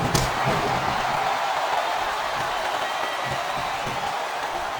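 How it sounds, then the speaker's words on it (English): Steady roaring crowd noise from a wrestling arena in WWE SmackDown vs Raw 2007, a dense continuous cheer with a sharp impact at the start, loud and sustained throughout. "Listen to the crowd, JR."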